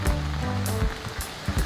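Loud, constant rushing of heavy rain on a stepped mountain trail up Twin Peaks, close and unbroken, with faint vocal tones mixed underneath.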